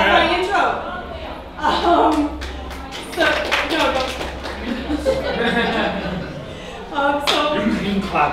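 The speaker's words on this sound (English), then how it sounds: "You can clap after everything I say" Scattered audience clapping at a LARP convention panel, brief bursts of hand claps and taps mixed with chuckles and chatter, with people talking throughout.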